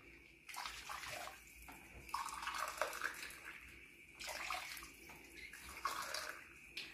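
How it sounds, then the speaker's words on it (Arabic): Water poured from cups into a cooking pot for rice, several faint bursts of splashing and gushing with short pauses between them and no talking. "وانا عندي 3 كاسات رز بدي احط 4 كاسات مي"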